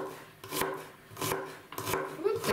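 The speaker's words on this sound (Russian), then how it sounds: "Для начала нарезаем мелко одну луковицу." A knife chops an onion on a cutting board in a few uneven bursts of quick, crisp strikes, up close and with no talking.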